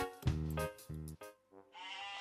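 A sheep in the block-building game Mini World: Block Art bleats a few wavering, nasal calls in quick succession, fairly faint and with no talk over it.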